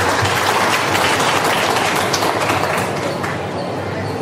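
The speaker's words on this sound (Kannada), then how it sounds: "ಒಂದು ದೊಡ್ಡ ಚಪ್ಪಾಳೆ ತಾವೆಲ್ಲ ಕೊಡಬೇಕು" A crowd applauds loudly and steadily, a dense wash of clapping that holds for a few seconds and eases slightly at the end.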